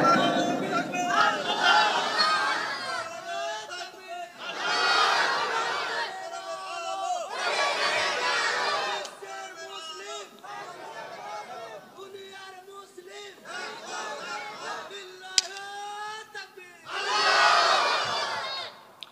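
A crowd at a religious gathering shouting the takbir chant in repeated loud unison bursts, answering a leader's call between them.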